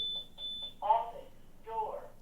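A high electronic alarm beeps in a short repeated pattern at moderate level while someone speaks over it in two brief bursts.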